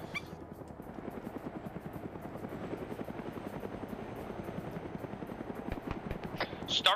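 Helicopter in a military video game, a steady rapid rotor chop thudding continuously at moderate loudness, holding close throughout and swelling slightly at the end.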